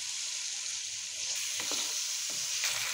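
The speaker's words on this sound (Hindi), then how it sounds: "आलूओं को इस मसाले के साथ हम लोगों ने अच्छी तरह से भून लेना है।" Diced potatoes frying with masala in a pan, a soft steady sizzle with a couple of faint stirring scrapes, quiet and close, no voices.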